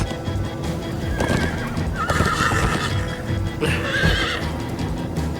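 A horse whinnies loudly twice over a steady rumble of galloping hooves in the video game Minecraft Story Mode, with clattering and rushing noise filling the background.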